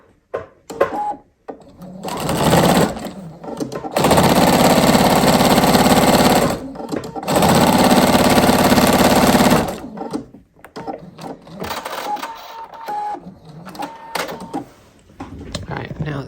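A sewing machine stitches foundation paper-pieced fabric in two long, steady, loud runs of rapid mechanical chatter, with a few shorter bursts around them. A person talks between the runs.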